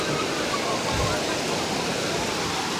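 Rough sea water during Ganesh idol immersion on the coast, a loud, steady roar of churning surf and wind that fills the whole moment.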